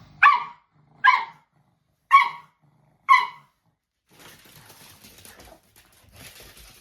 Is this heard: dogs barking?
yes